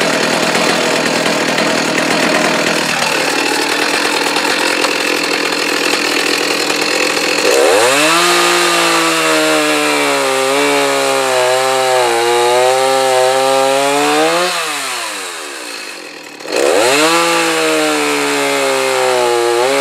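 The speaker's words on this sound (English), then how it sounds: "I'm going to saw right through that pith" A chainsaw cuts through a log near the crotch, close and loud. The engine climbs into a high, wavering whine as it bites into the wood, drops briefly, then revs up again.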